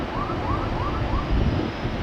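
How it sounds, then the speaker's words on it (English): A siren wails in rising and falling sweeps over a steady background rumble of airliner engines at an airport, somewhat distant. "I hear sirens."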